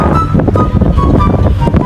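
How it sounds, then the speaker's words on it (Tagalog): Wind blows hard against the microphone at a mountain roadside viewpoint, rumbling and gusting loudly throughout with no voices. "Mas mahangin pa."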